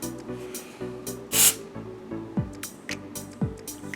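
A single short, loud hiss of aerosol hair volume spray bursts out amid quiet handling noises and soft clicks.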